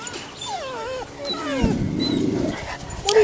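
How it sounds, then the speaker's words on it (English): A Boerboel puppy lets out a low drawn-out growl that swells into a rough moan, close by and fairly loud, with whines and squeaky pup noises around it. "What are you growling at?"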